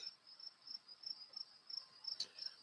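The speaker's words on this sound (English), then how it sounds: "Beautiful natural sounds you have there. Crickets." Crickets chirping alone in rapid pulsed bursts, a steady high trill repeating every fraction of a second at moderate, fairly close loudness over a quiet background.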